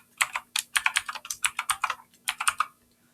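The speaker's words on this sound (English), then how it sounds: "I have to type in that password" A password typed on a computer keyboard, about twenty quick, crisp key clicks close by in short uneven bursts with brief pauses, and no voice.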